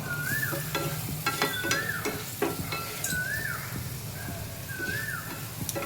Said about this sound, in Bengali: লবণ আর হলুদ দিয়ে নেড়ে দিলাম।